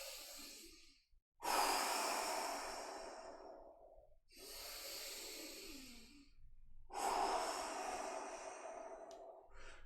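Deep, slow breaths during a chakra meditation session, three long airy exhalations or inhalations separated by brief quiet pauses, close and soft with no talking.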